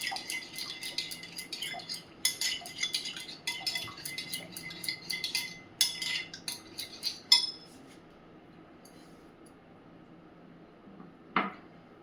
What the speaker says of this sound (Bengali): আগে একটুখানি দইটা কাটিয়ে নিচ্ছি।